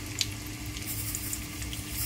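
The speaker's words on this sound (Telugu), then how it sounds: "అల్లం వేగుతూ ఉంది కదా" Ginger frying in hot oil gives a steady, soft sizzle that holds evenly throughout with a few faint crackles, close by and with no talking.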